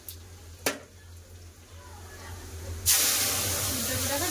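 Boiled lentils (dal) poured into a hot pan of fried onion, a dried red chilli and leaves, bursting into a loud, steady hiss after two sharp clinks, the sizzle staying strong to the end.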